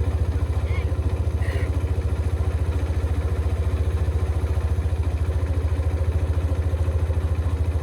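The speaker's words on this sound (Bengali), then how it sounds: "আমি ক্লাচও ছেড়ে দিচ্ছি, দেওয়ার পরে আমার বাইকটা অটোমেটিক চলবে" A Hero Xtreme 125R motorcycle rolls in third gear with the clutch released and no throttle. Its single-cylinder engine holds a loud, steady, even thumping beat close by, without revving.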